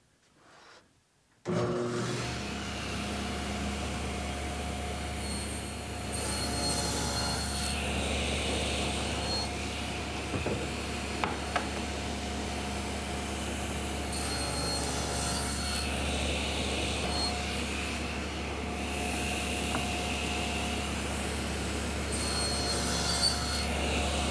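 A table saw cutting wood stock held against a stop block starts up after a brief quiet and then drones steadily, with the rasping of the blade through the wood swelling and fading over repeated passes. Nobody speaks.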